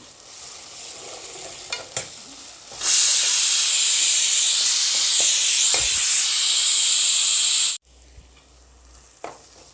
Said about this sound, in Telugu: ఇప్పుడు దీంట్లోని వన్ స్పూన్ అల్లం వెల్లుల్లి పేస్ట్ వేస్తున్నాను వేయించుకుందాం